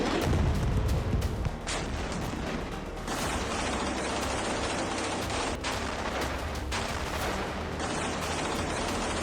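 Bomb blasts in southern Gaza, around Khan Younis, roll on as a loud, continuous barrage of booming and crackling detonations, heavy and sustained from start to finish with no voices.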